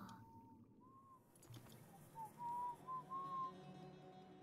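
A person whistles a soft, faint tune of several short notes, with a brief pair of notes early and a run of rising notes later, over low background ambience in a stealth PC game.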